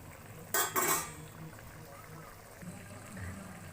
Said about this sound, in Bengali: ঢাকনাটা তুলে একটু দেখে নিচ্ছি।